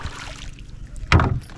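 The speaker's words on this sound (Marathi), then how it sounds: "होडी चालवणं पण साधी गोष्ट नाही" An oar splashes and pulls through the water of a creek as a rowboat is paddled, a single close stroke standing out over soft wind noise.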